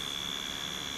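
An electric motor's rotor speeds up, giving a steady high whine with a constant tone over a broad hum, loud and close, alone for about a second.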